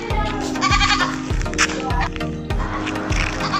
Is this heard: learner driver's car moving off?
no